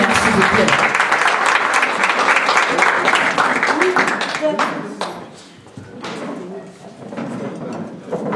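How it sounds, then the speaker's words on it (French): An audience at an evening community gathering of the Bangoulap family applauds the mayor, a dense sustained clapping that stays loud for several seconds, then thins and swells again with scattered voices mixed in. "Famille, merci d'acclamer Madame le maire, s'il vous plaît."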